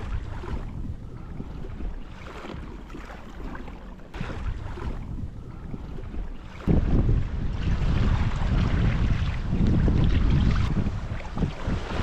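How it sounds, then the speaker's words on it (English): Steady wind rushing past a Hobie Compass sailboat at sea, a constant broadband roar over lapping water that swells louder and fuller partway through as the breeze picks up. "Oh, the wind is back"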